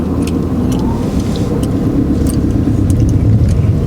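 A learner's car pulls away in first gear, its engine a loud, steady low rumble from inside the cabin that rises slightly toward the end, with no voices over it.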